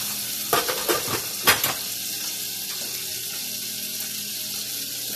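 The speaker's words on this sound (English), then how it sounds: "Butter in there. Stir in my onions." Onions being stirred into mashed potatoes with butter, giving a few soft scraping and clinking stirs early on over a faint, steady background hiss.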